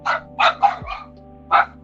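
Dog barking indoors, four quick sharp barks in a burst followed by one more after a short pause, close and loud over a steady low hum.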